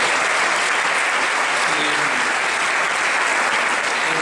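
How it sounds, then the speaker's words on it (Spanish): An audience at a business meeting applauds with loud, dense, continuous clapping that lasts the whole clip, with a voice faintly under it. "un aplauso para ustedes más bien"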